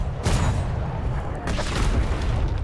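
Ship cannons firing in the naval game ATLAS, two heavy booming blasts about a second apart over a rumbling battle background, with no voices.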